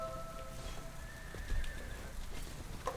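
A horse whinnies sharply in the War of the Roses video game, its brief neigh set against faint battle ambience and hoof clatter.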